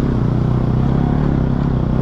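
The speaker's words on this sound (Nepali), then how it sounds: "यसरी बाइक नरड्काऊ, बिस्तारी जाउँ" Motorbike ridden slowly over a rough, dangerous road with friends on a Saturday ride near Suryachaur, its engine a steady close rumble with faint rattling, no talk over it.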